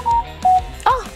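Android Auto message notification chimes sound in a car, three short bright electronic tones in sequence, the last one rising and ringing, clear and close over a quiet background.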